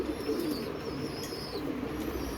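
A female pigeon coos softly at close range inside a breeding loft, a low murmuring coo repeating under a steady background hum.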